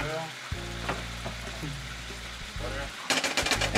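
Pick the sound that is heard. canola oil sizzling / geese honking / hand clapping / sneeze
canola oil sizzling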